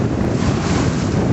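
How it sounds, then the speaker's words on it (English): Wind and light sea chop aboard a sailboat crossing to Santa Cruz Island on a cool early morning, a steady broadband rush of wind noise and water with no distinct splashes, loud and close throughout the short stretch. "There's a very light chop, good cool wind time of morning"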